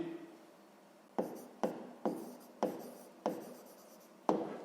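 Pen or pencil writing by hand on paper during a sixth-grade math exercise on map scale, heard as six short scratchy strokes, each beginning with a sharp onset and fading off, spaced fairly evenly and close up with no talk.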